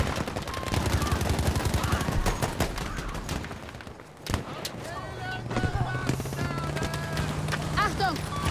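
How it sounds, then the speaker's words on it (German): Battlefield 5 combat on a desert map: steady rattling gunfire and machine-gun bursts throughout, with one heavy thud midway as a grenade goes off. Shouted soldier voices sound over the din. "Granate geworfen!"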